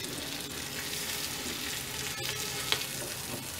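Chicken tikka sizzles on a grill pan with a quiet, steady frying crackle and one brief click partway through.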